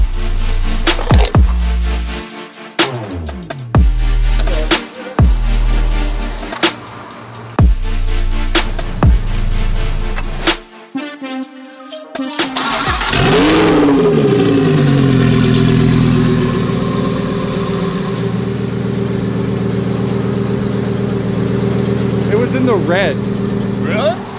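After a stretch of rhythmic music, a straight-piped Lamborghini Aventador V12 with titanium exhaust roars to life nearby, revving up and settling into a rough, droning idle.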